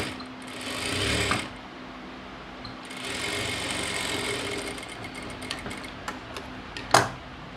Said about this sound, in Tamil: நல்லா விரிச்சு வச்சு போடுங்க படிமான தையல்.